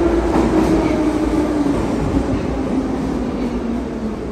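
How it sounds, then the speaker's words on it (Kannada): A metro train runs through Tashkent, Uzbekistan, with a steady, loud rumble of wheels and motor and a faint clickety-clack that persists throughout, without speech. "ರಷ್ಯಾದಲ್ಲಿ ಯಾವ ಥರ ಸೌಂಡ್ ಮಾಡ್ಕೊಂಡು ಮೆಟ್ರೋ ಹೋಗ್ತಿತ್ತು ಅದೇ ಥರ ಸೇಮ್ ಟು ಸೇಮ್ ಮೆಟ್ರೋ ಇಲ್ಲೂ ಸೌಂಡ್ ಮಾಡ್ಕೊಂಡು ಹೋಗುತ್ತೆ"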